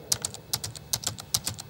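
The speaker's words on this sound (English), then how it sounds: "I can either input the notes onto the virtual score on the screen by this typewriter pad here" Keys tapped on a computer keyboard pad to enter notes into Sibelius notation software, a quick irregular run of crisp, close clicks with no talking.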